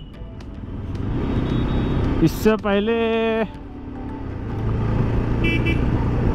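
Early-morning road traffic on the route from Mumbai toward Lonavala, with a steady rumble of passing vehicles and a loud, sustained car horn blast near the middle; someone speaks briefly over it.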